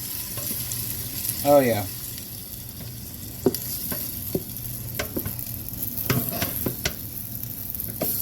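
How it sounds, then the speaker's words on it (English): Meat sears in a hot pan for a pasta dish, giving a steady, close sizzle with small pops and crackles throughout, while a voice briefly speaks near the start. "We're going to let it sear for about 3 minutes."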